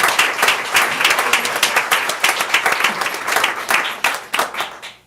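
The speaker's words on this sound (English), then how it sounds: "Let's give them all a round of applause." A board meeting audience applauds state championship athletes, with loud, dense clapping from many people sustained for several seconds before thinning out at the end.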